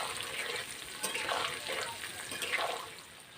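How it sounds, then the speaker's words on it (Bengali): Green mango pieces, peel still on, fry in hot oil with a soft, steady sizzle and a few quick bubbling surges, fairly quiet and close. "আমগুলো আমি ভেজে নেব।"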